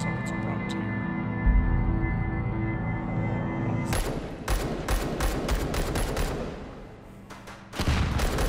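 Rapid bursts of gunfire from a VR shooter, Hot Dogs, Horseshoes & Hand Grenades in Take and Hold mode: a steady hum gives way to a loud volley of close, sharp shots in quick succession, a pause, then more shots.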